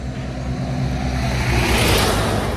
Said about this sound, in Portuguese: Ai, muito barulho de carro passando aqui.